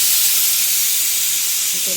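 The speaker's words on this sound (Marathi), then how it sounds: "अजून एक शिट्टी काढते मी." A pressure cooker on a home kitchen stove vents a long, loud, steady hiss of steam while masoor dal cooks inside, close by and continuous, with faint household sounds underneath.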